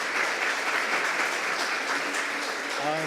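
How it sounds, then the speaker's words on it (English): An audience claps for the panelists at the close of a discussion event, a full and even patter of many hands, with a voice starting to speak just as it ends. "put your hands together and give a round of applause for our panelists"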